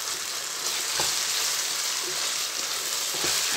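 Squid pieces sizzling in a hot frying pan while cooking fideuá with prawns, a steady bright hiss of frying oil with a few soft stirring knocks and scrapes, no voices.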